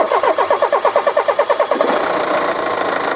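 A BMW G30 520d diesel engine cranks with a rapid rhythmic churn of about a dozen pulses, then catches and settles into a steady, close, loud idle.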